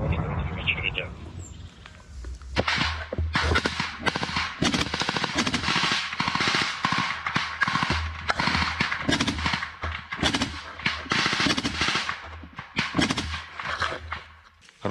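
Short bursts of gunfire rattle repeatedly during a combat assault to liberate Robotyne, loud and close, with brief gaps between bursts and voices speaking in the background.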